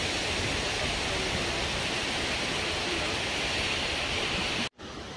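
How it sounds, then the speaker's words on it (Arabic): The Ouzoud waterfalls in Morocco send out a loud, constant roar of falling water that fills the whole scene without break until a brief cut near the end. "مباشرة معكم من شلالات وجود، الطبيعة والجمال، شلالات الماء وجود"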